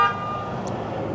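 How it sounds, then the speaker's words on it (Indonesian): A truck horn sounds briefly on a hilly road in Kalimantan, a short blast at the start over a steady bed of engine and road noise. "Mantap klaksonnya."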